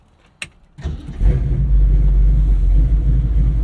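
A 1968 Ford Mustang Fastback with an aggressive cam starting up: a brief click and crank, then the engine catches into a loud, deep, lumpy idle rumble that holds steady up close.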